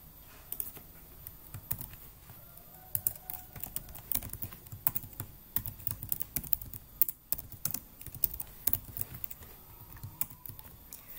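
HTML code being typed on a computer keyboard, a rapid, irregular run of close key clicks and taps with brief pauses, steady throughout and with no talk.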